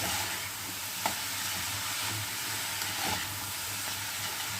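Finely chopped cabbage frying in a pan for veg momos, a steady close sizzle with faint stirring scrapes and no talk.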